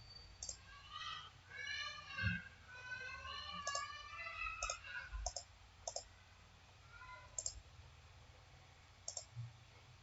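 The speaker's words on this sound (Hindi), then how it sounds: "इस पे आपने क्लिक किया" Sharp computer mouse clicks, several single taps scattered irregularly and close by, with faint bird chirps and light background noise between them.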